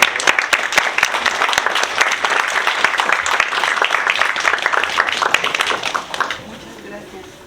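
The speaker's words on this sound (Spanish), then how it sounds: "vamos a recibir a nuestra ponente, muchachos, con un fuerte aplauso" A group of young people gives a strong round of applause to welcome a speaker at an awareness talk, dense rapid clapping that fills the room, then thins out and fades near the end.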